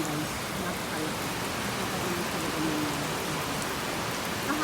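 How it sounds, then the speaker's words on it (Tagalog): Heavy, steady downpour roaring loudly and evenly for the whole span, with no pauses or breaks in the hiss of falling water. "malakas ang ulan guys. Napakalakas."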